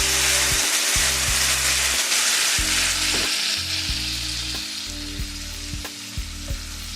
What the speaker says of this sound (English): Now you can add in your minced garlic, and we're going to saute that for 1 minute.